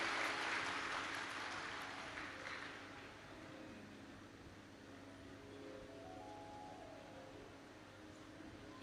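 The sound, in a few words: audience applause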